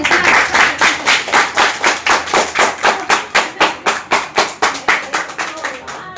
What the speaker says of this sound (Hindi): तो अब आप बच्चों के लिए ताली बजा लो।